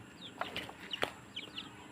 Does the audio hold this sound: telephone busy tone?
no